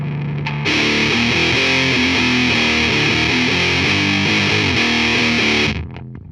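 A heavily distorted electric guitar through an op-amp Big Muff fuzz pedal plays a chugging riff of chords and notes, thick and saturated, for about five seconds before cutting off.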